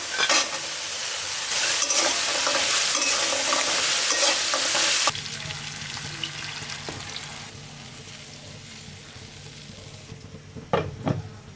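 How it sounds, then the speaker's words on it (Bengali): Pumpkin bori lentil dumplings being sautéed in spices in a pan, a loud dense sizzle with scraping stirs that drops to a quieter fry and clinks of utensils near the end. "মশলা ভালো মতন কষানো হয়ে গেছে কুমড়ো বড়ি দিয়ে কষাবো"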